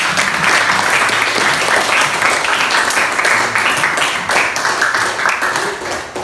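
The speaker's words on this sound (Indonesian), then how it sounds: "Kita tepuk tangan dulu ya semuanya ya." A crowd claps steadily and loudly for the whole stretch after a group discussion, a dense, even applause with no voices standing out.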